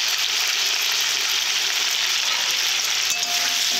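Potatoes and beans cooking with turmeric and chili powder give a loud, steady sizzle that stays dense and unbroken throughout, with no talking.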